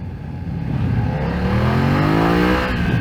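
A BMW F900XR motorcycle engine accelerates hard in a rising, steady roar, revs climbing smoothly for a few seconds with no voices.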